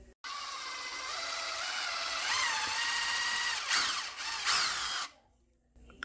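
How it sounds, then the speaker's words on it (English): A power drill drives a screw into a wooden piece for a homemade wall light, a close, loud whirring run of about five seconds with shifting pitch as it bites, then stops. "I went ahead and drilled that out"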